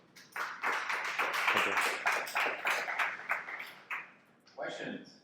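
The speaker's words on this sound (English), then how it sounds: "Round of applause for Ivan, please." An indoor audience claps after a talk on Waku, a Web3 communication layer, with dense, steady applause for about four seconds that thins out. A voice speaks briefly near the end.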